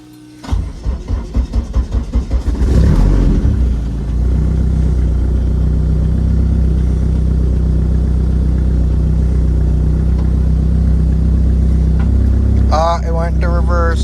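A Dodge SRT4 Eclipse fitted with a converted wire clutch cranks and catches, then settles into a loud, steady idle at close range. Its revs shift briefly near the end, and someone talks over the engine.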